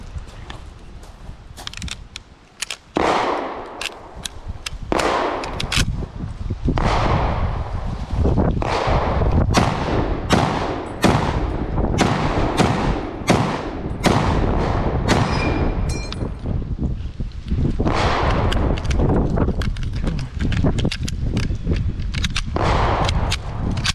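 Loud, rapid gunfire from a large, heavy rifle, with sharp shots fired in quick bursts and clusters one after another, close and continuous over a steady background.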